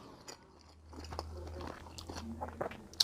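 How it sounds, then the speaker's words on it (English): Someone bites into a bacon-wrapped bratwurst cooked on a Pit Barrel Cooker, giving a few soft crunchy bites and moist chewing sounds, faint and close against a quiet low hum. "And let's take a bite."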